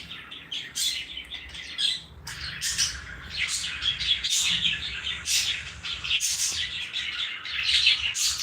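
A flock of lovebirds chirping and chattering continuously, overlapping shrill tweets and occasional squawks, close and fairly loud.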